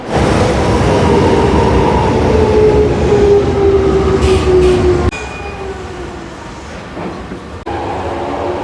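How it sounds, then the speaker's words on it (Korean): A subway train departs a station in a Japanese film scene, with a loud, close rumble and rising whine as it pulls away, then quieter rolling rail noise and a sharp clunk near the end. "그렇게 지하철이 출발하고 사라져버린 리카에 코타는 실망합니다"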